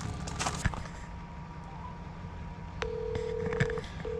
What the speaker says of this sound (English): I've got to phone Miriam now